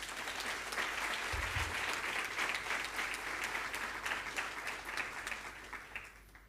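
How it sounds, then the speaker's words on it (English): A crowd applauds with steady, dense clapping that holds for several seconds before tapering off at the end. "Please give them a round of applause."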